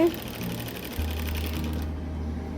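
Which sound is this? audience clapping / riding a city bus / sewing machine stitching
sewing machine stitching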